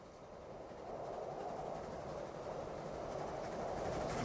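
Freight trains rolling through Transport Fever 2, a soft steady rumble of wheels and engines building slightly, heard faintly and alone.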